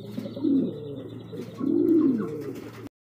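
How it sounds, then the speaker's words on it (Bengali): Mondain pigeons coo in two close, full-throated bursts, a short one followed by a longer rolling coo, against a steady low hum with no talking. "মন্ডিয়ান কবুতর আর সাইজ গেটআপ দেখেন"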